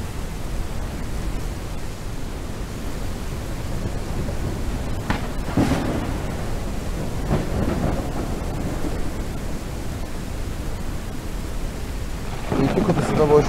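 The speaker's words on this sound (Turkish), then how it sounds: "Oğlum böyle yağmur yağması mantıklı değil" Heavy rain with rolling thunder in the farming game Ranch Simulator, a steady loud hiss of downpour with a few deep rumbles and cracks partway through, and a brief rise near the end.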